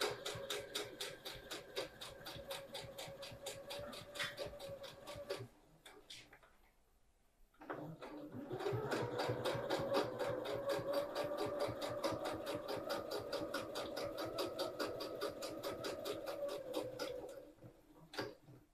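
Sewing machine stitching around the top of a fabric drawstring bag, a steady rapid needle rhythm running close and loud, broken by a brief pause before resuming.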